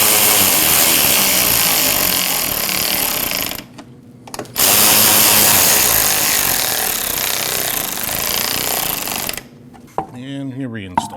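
Ratchet tightening two 7mm bolts during rear ABS wheel speed sensor replacement on a 2014-2023 Jeep Cherokee, a loud, close, continuous rapid clicking that breaks briefly twice, with no one talking.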